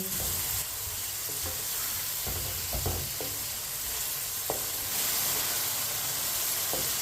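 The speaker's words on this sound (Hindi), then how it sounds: "दो मिनट के लिए मैंने चम्मच चलाते हुए पका लिया गोभी और मटर को" Cauliflower and peas frying in a pot for mixed vegetable rice, with a constant close sizzle and hiss and occasional clicks and scrapes of a spoon stirring.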